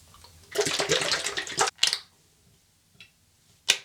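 Aftershave splash and Thayers Hydrating Milky Toner are poured into a hand: a sustained liquid splashing pour, then a short second splash and a few faint drips and pats, close and moderately loud, with no talking.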